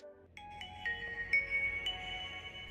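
Startup tune of a 2009 Nokia 5130 XpressMusic phone: a short melodic series of bright electronic tones, clean and fairly quiet, playing alone without speech.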